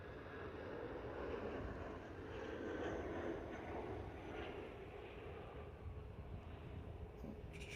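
An airplane coming in to land at Liverpool Airport (LPL), heard as a faint, distant, steady jet rumble that swells and fades slightly, with no talk.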